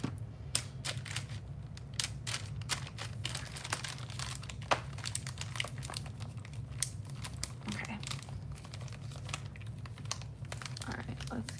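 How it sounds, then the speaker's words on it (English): Small plastic beads rustling and clicking as handfuls are placed into a plastic bag, a dense steady crinkle with scattered sharp ticks throughout, under a low continuous hum. "I'm just gonna go ahead and throw them, not throw them, but place as many as we can into the bag here."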